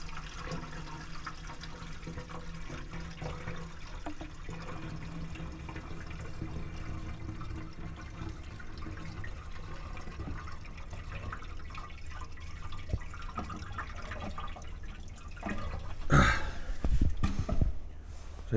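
Fuel is poured from a full can and leaks through the joint, giving a long, steady trickle and dripping close by, with a louder gushing splash near the end.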